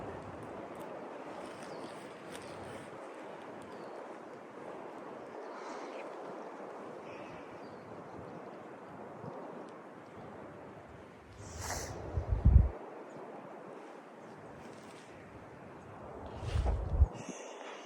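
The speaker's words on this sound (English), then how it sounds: "Can you hear the wind in the trees?" Soft, steady rushing of wind through foliage, fairly faint and continuous, with a couple of brief louder gusts or bumps near the microphone.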